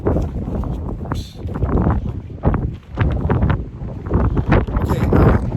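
Strong gusting wind buffeting the microphone at the bow of a Carnival cruise ship, roaring in uneven surges with rumbling low-end bursts throughout.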